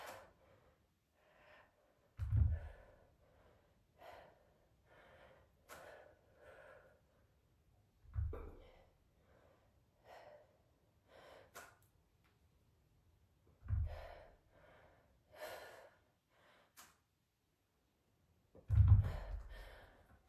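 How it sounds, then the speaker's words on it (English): Quiet, wet sniffles from a runny nose come in short bursts every few seconds, close up, with soft breathy exhales in between and no talking. "I'm sorry for the sniffles"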